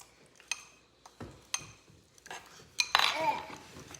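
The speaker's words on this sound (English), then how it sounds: "now we're just gonna take your fork and mix that together a little bit." A fork mixes sourdough starter in a container, striking it in sharp separate clinks and taps that give way to a busier stretch of scraping and clatter near the end, close and fairly quiet.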